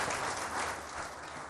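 Steady audience applause from a studio crowd on a live television iftar show, continuous dense clapping throughout, moderately loud with no speech over it.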